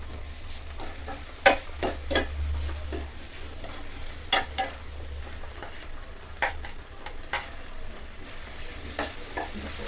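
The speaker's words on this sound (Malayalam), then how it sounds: "തക്കാളിയും സവാളയും കൂടെ ഒക്കെ നന്നായിട്ടൊന്ന് വഴറ്റിയെടുക്കണേ" Tomato and onion sauté in a pan for a soybean roast, a steady soft sizzle broken by scattered clicks and scrapes of a spoon stirring, close and fairly quiet with no voices.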